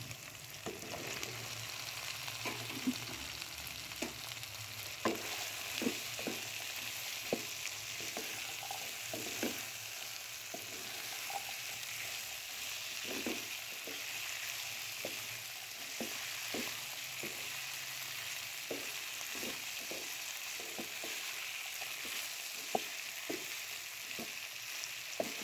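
Okra tossed into minced meat in a hot pan sizzles and fries steadily, with frequent soft stirring scrapes and clicks over a continuous low crackle, close and fairly quiet, no voices.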